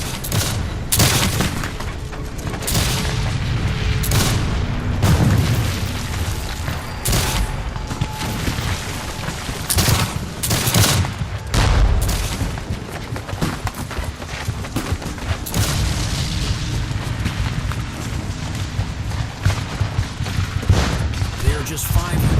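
A dense battlefield soundscape from the Battle of Gettysburg, with sustained gunfire, rolling booms and sharp cracks packed tightly together, loud and continuous throughout, with a voice talking over the din.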